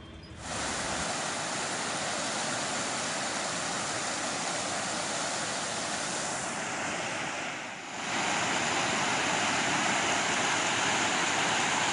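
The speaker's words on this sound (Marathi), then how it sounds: "विरार पूर्व मधलं फुलपाडा धरण हे ओव्हरफ्लो झालंय" The Phulpada dam in Virar East overflowing after heavy monsoon rain, a loud continuous roar of spilling water that dips briefly partway through before resuming, with no one speaking.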